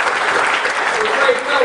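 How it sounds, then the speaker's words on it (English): An audience at a veterans event gives a short burst of warm, steady applause, dense and fairly loud, with some voices mixed in. "A warm applause"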